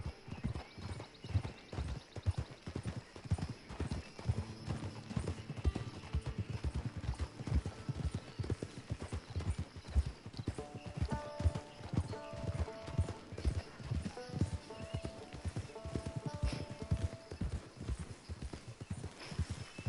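Horse hooves clip-clop in a steady, continuous gait through Red Dead Redemption 2, loud and close, with faint game music tones entering partway through.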